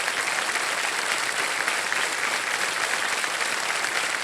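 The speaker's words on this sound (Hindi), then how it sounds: "तालियां बजती रहें इनके लिए।" Steady, full applause from the studio audience of a TV quiz game show fills the room without a break, loud and even throughout.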